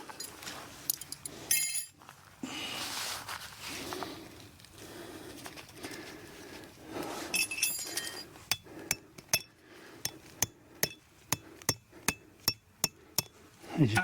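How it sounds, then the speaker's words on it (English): A bushman's hammer knocks tent pegs into rock-hard ground at an Anzac Day camp, first a few scattered strikes, then a steady run of sharp metallic clinks about twice a second, with birds cooing and calling in the background. "Get the bushman's hammer out to knock them into the ground."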